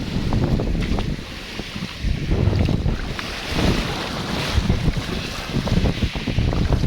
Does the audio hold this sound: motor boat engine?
yes